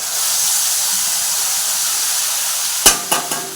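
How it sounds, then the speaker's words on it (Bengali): Tomato, green chili and cumin spice paste drops into hot oil, giving a steady broadband sizzle and hiss, then a few sharp, louder bursts of spattering near the end. "এই যে মশলাটা তেলে ছাড়ছি"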